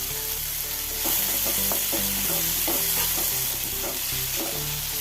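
Chopped tomato and curry leaves fry in a pan with a steady sizzle while being stirred, with repeated scraping strokes and soft clatters over the continuous hiss, close and fairly loud with no talking.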